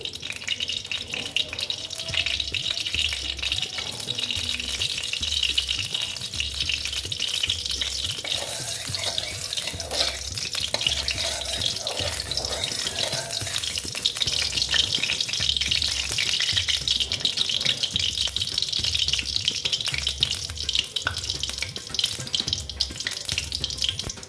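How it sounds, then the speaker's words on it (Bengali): Oil heating in a kadai for Bengali moong dal with radish gives a steady, soft sizzling hiss that runs unbroken throughout, with no voices. "দেখো তেলটা প্রায় গরম হয়ে এসছে"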